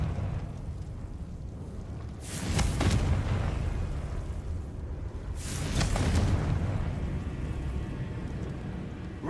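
Two loud Confringo blasting-curse explosions from Hogwarts Legacy, each a broad booming burst that swells and fades, spaced a few seconds apart over a rumbling background.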